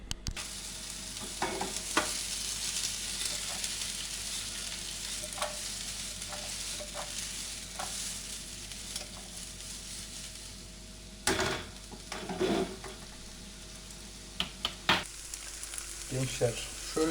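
Steady sizzling of onions and sausage frying in a pan, with scraping stirs and a few clanks of a utensil against the pan.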